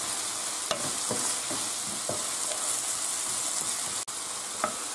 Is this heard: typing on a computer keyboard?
no